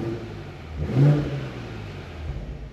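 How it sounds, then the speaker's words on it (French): A BMW Z4 M40i with its B58 six-cylinder engine, in comfort mode, gives a short rev: a mid-pitched engine note swells to a brief peak and then settles back to a steady idle hum. "nous allons passer en confort pour que vous puissiez entendre le son du véhicule."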